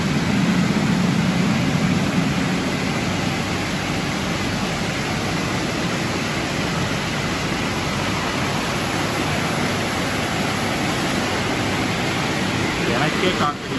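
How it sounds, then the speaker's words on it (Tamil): Automatic car wash in Coimbatore pushing high-pressure water over a car, a steady, loud broadband hiss and rush lasting throughout with a low rumble of machinery beneath. "தண்ணி ஃபுல்லாக தள்ளுது பாரு."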